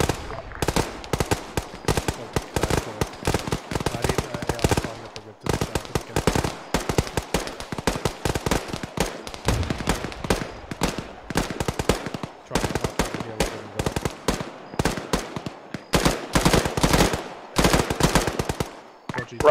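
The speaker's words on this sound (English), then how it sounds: "Machine guns south." Sustained machine gun fire in ARMA 3: long rapid bursts of gunshots close by, repeating with brief gaps throughout, with occasional radio chatter under the shooting.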